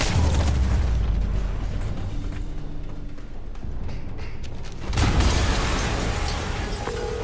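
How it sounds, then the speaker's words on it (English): A loud, deep explosion in the Marvel's Spider-Man video game, with a heavy low boom running through the whole stretch and a fresh burst swelling up near the end. "an explosion just..."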